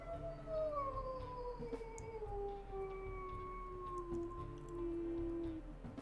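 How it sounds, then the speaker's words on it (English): A gray wolf howls in the WolfQuest video game, one long sustained tone that slowly slides downward for several seconds, layered with faint harmonics, over a low background hum. "let's check out his howls"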